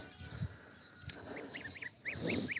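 Several nasal honks from a gander, a few scattered then a louder rapid burst at the end, amid faint background noise.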